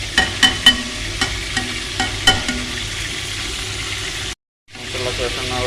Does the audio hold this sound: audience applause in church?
no